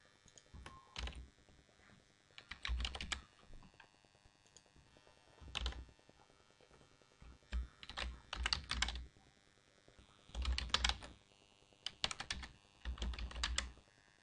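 Bursts of rapid key clicks on a computer keyboard as a password is typed into a new-user form, coming in short clustered runs separated by pauses, close and fairly quiet with no voices.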